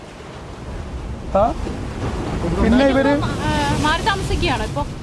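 Sea waves surge against a house in Kerala that was damaged when the sea came in, making a broad, swelling roar and wash under close voices talking.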